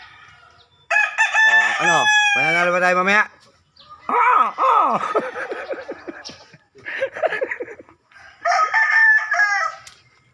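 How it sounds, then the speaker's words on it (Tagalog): Roosters crow loudly several times close by, long strained calls in separate bursts, with a person speaking briefly between them. "Ayan po ang kanyang mga manok."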